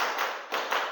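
A group claps in unison, counting out claps in a classroom lesson: several short, sharp bursts of hand clapping in quick succession, fairly loud and close.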